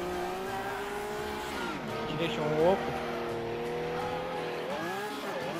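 Cars racing and crashing in the Wreckfest video game, with a steady engine roar, tire squeals and skids, and a brief crash thump midway, while someone talks over the action.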